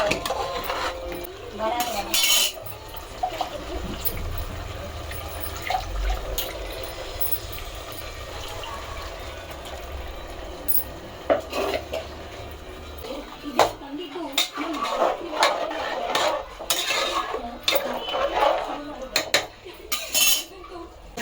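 Ground ginger-garlic paste being mixed in a pot, with metal utensil clinks and scraping against the pot in irregular bursts, close by, under people talking.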